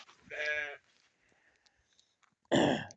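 Sheep on a farm bleat twice, loud and near: a drawn-out wavering call, then a pause of quiet, then a second harsher bleat.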